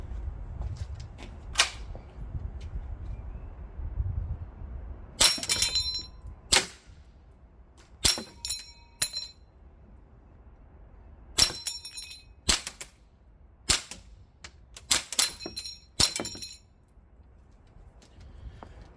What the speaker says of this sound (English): let's shoot the Texas Star and let's see how many rounds it takes.